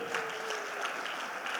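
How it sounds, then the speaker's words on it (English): A crowd at a speaking event keeps up a soft, even round of clapping after a talk, with the sound continuing throughout without any change. "I think she deserves a bigger round of applause"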